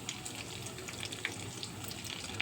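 Breadcrumb-coated chicken cutlets frying in hot oil in a wok after being turned over. A dense, even sizzle runs throughout, dotted with light crackles and pops, and there is no speech.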